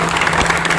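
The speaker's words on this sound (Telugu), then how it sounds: "మీరందరూ చప్పట్లు కొట్టి గౌరవిస్తున్నారు ఆ మాటని" Audience applauding at a retirement function for a Vizag Steel executive, with dense, steady clapping at even loudness throughout.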